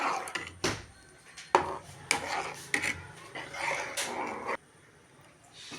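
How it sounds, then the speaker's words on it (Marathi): Ground masala being stirred and scraped in a pan, a series of loud rasping scrapes in uneven strokes that stops abruptly, leaving quieter background near the end. "हें आतां मसाला घाला मिक्स करून घेतस."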